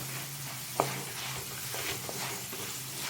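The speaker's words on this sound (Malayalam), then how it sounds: "ഇനി ഇതിലേക്ക് കുറച്ച് കറിവേപ്പില അങ്ങോട്ട് ഇട്ട് കൊടുക്കാം ലാസ്റ്റ് നമുക്ക് എന്നിട്ടൊന്ന് ഇളക്കി ആ കറിവേപ്പിലയുടെ ഒന്ന് മൂത്ത് വരക്കാം" Curry leaves fry in hot oil as they are stirred into a yam stir-fry (chena upperi), a continuous dense sizzle with one sharp utensil clink and faint stirring scrapes, no voices.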